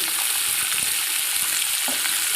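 Paneer fries in a pan with a steady, close, dense sizzle that stays even throughout, with no voices.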